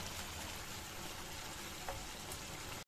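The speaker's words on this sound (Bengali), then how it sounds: "এখন আমি পরিমাণ মতো জল দিয়ে দেবো" Water hits a hot pan of frying pangash fish curry masala, giving a loud, steady broadband sizzle and hiss that stays dense and even for the whole stretch, with no talking over it.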